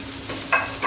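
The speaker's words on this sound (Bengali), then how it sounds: "গরম তেলের মধ্যে আমি এখন সোয়াবিনটা ভাজা করে নেব।" Soybean pieces frying in hot oil, a brief close sizzle with a couple of stirring scrapes.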